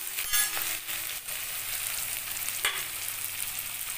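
Panch phoron spices frying in hot oil in a pan while being stirred, giving a continuous close sizzle with a few brief scrapes and pops.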